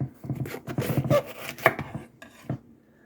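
Green onion chopped with a knife on a board, a quick run of close, crisp taps that slows and thins out near the end.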